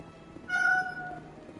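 A cat meow played back through an Alexa smart speaker, one short electronic-sounding mew alone, fairly quiet and close.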